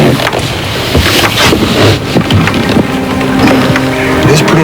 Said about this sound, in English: Just sitting here, listening to the water.